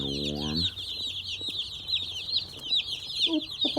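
Baby chicks in a brooder cheep constantly in a loud, high, overlapping chorus. A brief low clucking opens the scene, and there is no speech.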